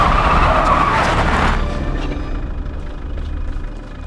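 A car brakes hard in a broad, loud rush of tire and road noise that peaks in the first second and a half, then fades into a low engine rumble.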